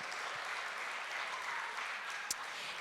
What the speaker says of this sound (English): So can you give another round of applause for the Old Church?